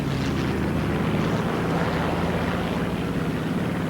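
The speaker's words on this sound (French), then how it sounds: "Plus tard, les porte-avions catapultèrent des avions." A propeller aircraft launched from an aircraft carrier, a steady droning engine roar held close and loud for a few seconds without pause.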